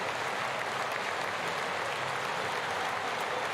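Steady, dense applause from a large audience filling a chamber at the 2020 State of the Union address, sustained and even throughout without any voices rising above it.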